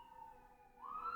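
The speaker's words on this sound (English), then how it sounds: "Apologies if you hear the sirens in the background." A faint siren wails in the distance, its tone sliding upward near the end of a brief, quiet moment.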